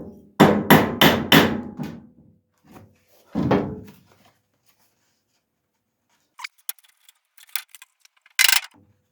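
Bolts are hammered into the dash top of a Ford Escort MK1 under restoration: four quick, loud metallic blows, then two more spaced strikes, followed by quiet clinks and taps of metal parts.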